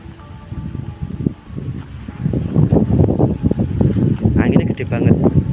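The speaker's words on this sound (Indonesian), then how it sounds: "Anginnya gede banget." Strong wind buffets the microphone at the Kasepuhan tomb complex, a loud continuous rumbling roar that swells and gusts throughout.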